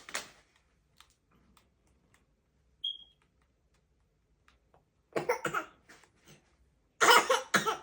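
A child fakes a cough in a quiet home, with a few coughs near the start and end and a short beep heard between them.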